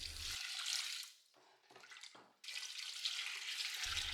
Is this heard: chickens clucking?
no